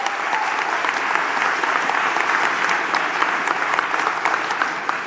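A town hall meeting audience in Coney Island applauds together, dense and sustained clapping filling the room at a steady level, with faint crowd murmur underneath.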